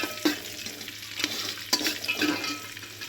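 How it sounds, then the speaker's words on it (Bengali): Cashews, raisins and green chilies fry in a pan with a soft sizzle, broken by a few scraping stirs of a spoon against the pan, close and fairly quiet, with no talking. "কাজু কিশমিশ, কাঁচা লঙ্কা সব দিয়ে দিলাম। দিয়ে এটা হালকা করে ভাজবো,"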